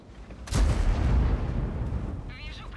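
A heavy tank cannon blast in a video game booms out, its low rumble lingering for over a second before fading into quieter background noise.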